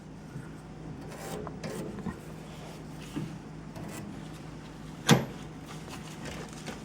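A gas range compression hose being wiped clean by hand: quiet, uneven rubbing strokes close to the mic, with a single sharp click or knock near the end.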